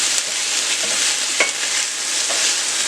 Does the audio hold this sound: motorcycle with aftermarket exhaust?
no